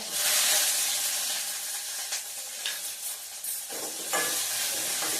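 Cumin, mustard seeds, chillies, garlic and onion sizzle and crackle in a hot pan, a steady loud frying hiss with stirring scrapes and a brief dip before the sizzle surges again.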